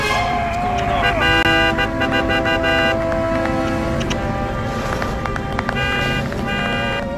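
Cars driving through traffic in the game Destroy All Humans!, engines running steadily while horns toot repeatedly over the top, with voices talking beneath the din.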